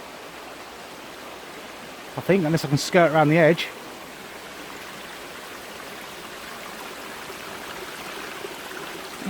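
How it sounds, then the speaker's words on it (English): Continuous rushing of a waterfall and stream in Cornwall fills the background steadily, with someone briefly speaking over it near the start. "Oh great, I've got to walk up a waterfall."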